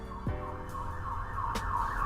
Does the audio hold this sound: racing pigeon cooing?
no